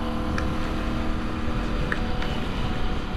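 A Royal Enfield motorcycle on the road, its engine a steady, close drone under constant wind rush for the whole stretch.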